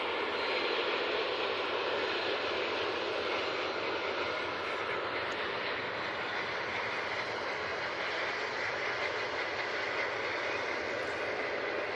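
An EasyJet airliner lands at Manchester Airport, giving a loud, sustained jet engine roar with a broad rushing hiss that holds steady throughout, with no voices over it.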